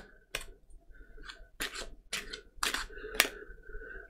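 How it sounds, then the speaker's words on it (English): Oracle cards being shuffled after unboxing a new deck, a series of brisk papery riffles and flicks in short bursts with gaps between them, close and fairly quiet with no talking. "I'll just actually give them a bit of a shuffle."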